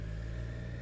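A 2019 Triumph Street Triple RS motorcycle with its stock exhaust runs with a steady, smooth engine hum, close and even throughout a brief moment.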